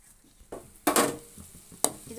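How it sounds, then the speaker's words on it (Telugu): Sliced onions and green chillies sautéing in oil give a soft sizzle, broken by three sharp bursts of a spatula stirring and scraping the pan, heard close and with no talking. "ఈ ఉల్లిపాయలు, పచ్చిమిరకాయలు ఈ ఆయిల్లో బాగా మగ్గబెట్టుకోవాలండి"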